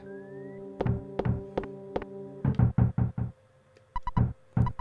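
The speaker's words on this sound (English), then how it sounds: "Who could be knocking at the door at this time at night?" Earthbound's late-night knock at the door: sharp, repeated thuds in irregular bursts, close and loud, with brief pauses between clusters of knocks and no voices.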